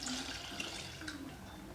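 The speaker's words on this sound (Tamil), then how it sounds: "இப்போ இதுக்கு தேவையான அளவு வந்து தண்ணி ஊற்றிடலாம்" Water poured into strained mint water for pani puri makes a soft, continuous splashing trickle, faint and steady, with a few brighter splashes.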